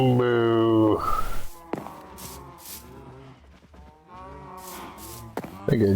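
Minecraft cow mooing in a survival world, several drawn-out low lowing calls with a strong harmonic stack at the start, then softer repeated moos with light game footsteps and a voice talking over them.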